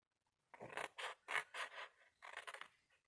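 Scissors snip straight across the base piece of a tall cardboard craft box, five or six close crisp cutting strokes in quick succession, clear and near, with no talking.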